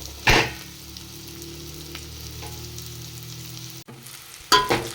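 Tomatoes and onions fry in a pan with a steady, moderate sizzle, bracketed by two loud bursts of crackling and clatter near the start and the end.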